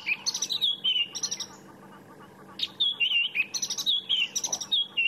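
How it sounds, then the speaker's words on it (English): Robins sing at sunrise in Sabi Sand, giving bright, whistled phrases in repeated bursts with short pauses between them, clear and fairly close against a quiet background. "You can definitely sit and listen to the robins for hours."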